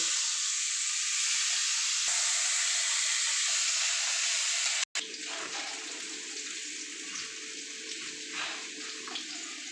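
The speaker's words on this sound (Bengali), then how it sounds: "এবার আমি আলু বেগুন ভেজে নেব" Potatoes and eggplant frying in hot oil give a loud, steady sizzling hiss that cuts out for an instant midway, then carries on a little lower and rougher.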